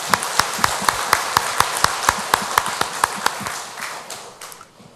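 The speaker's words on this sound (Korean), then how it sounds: "우리 한번 그분께 한번 감사 박수를 한번 드립시다" Congregation in a Korean church service clapping in thanks, a brisk, regular series of sharp claps close by that fades and loosens toward the end.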